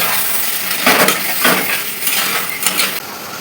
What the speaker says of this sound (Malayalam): ഒന്ന് മിക്സാക്കി കൊടുക്കുക കേട്ടോ